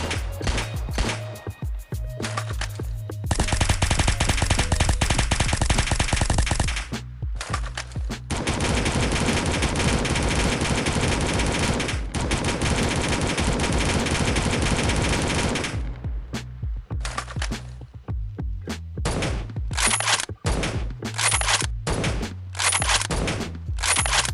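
Rapid bursts of gunfire from the Crossbattle weapons addon in Minecraft Bedrock, with bullet impacts, loud and close: long sustained automatic volleys broken by short pauses, ending in a string of single shots.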